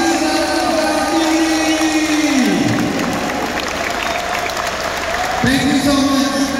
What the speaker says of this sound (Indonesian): Tepuk tangan untuk Bapak Rizal Ansari.